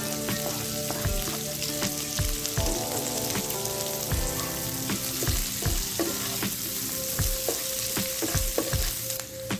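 Garlic frying in a pan, a steady dense sizzle with scattered crackles and occasional stirring scrapes, loud and close throughout with no talking.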